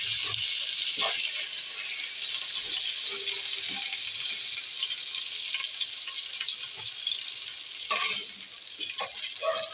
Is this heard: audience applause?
no